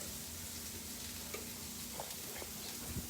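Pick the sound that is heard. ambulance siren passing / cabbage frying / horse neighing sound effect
cabbage frying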